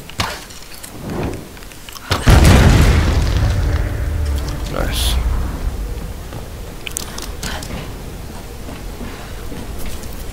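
A bomb blows up in Tomb Raider with a sudden loud boom about two seconds in, followed by a long rumbling, crackling tail like debris raining down, while a player talks over the game audio.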